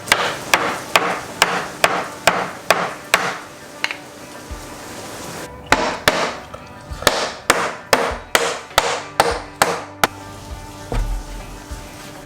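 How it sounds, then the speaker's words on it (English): Repeated sharp hammer blows strike wooden pallet boards in steady bursts, about twenty hits with a short pause midway, close and clear with no talking. "Might need to get a hammer or a mallet to get this in here"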